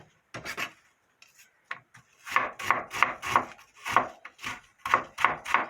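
A knife finely chops apple on a board in quick, close, rhythmic thuds. A few scattered cuts come first, then a steady run of strokes.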